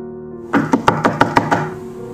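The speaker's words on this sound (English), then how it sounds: "she freaked out and ran up the stairs and began banging on her bedroom door." A hand bangs on a bedroom door at the top of a staircase, about seven sharp knocks in a steady run, close and fairly loud, with no talking.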